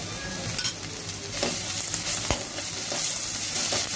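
Ginger garlic paste fries in a hot pan for a Bengali pangas fish roast, a dense, continuous sizzle with faint scraping as it is stirred, close and alone without voices.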